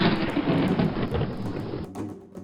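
A thunderstorm rumbles with steady heavy rain hissing throughout and a deep roll of thunder that fades toward the end, no voices present.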